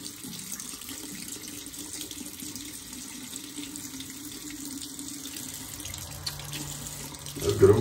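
Water runs steadily from a tap into a sink while waiting for hot water, a constant close hiss with a louder gush and clatter near the end.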